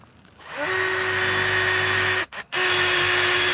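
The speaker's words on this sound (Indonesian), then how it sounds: "melubangi bagian ininya, tempat bautnya menggunakan bor" An electric drill bores bolt holes in a new table saw stand, spinning up to a loud, steady, close whine, cutting out briefly near the end and then resuming at full speed.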